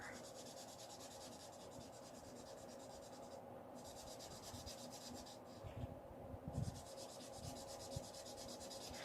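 Spectrum Noir Tri Blend alcohol markers rubbing steadily across watercolor paper, a close, continuous scratchy stroking with brief pauses and a few firmer strokes near the end.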